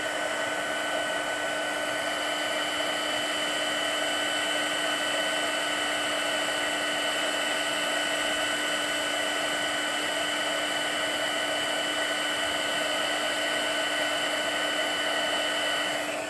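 Embossing heat tool blowing hot air, a constant close whirring blower with a high steady whine, unbroken and loud throughout with no talk.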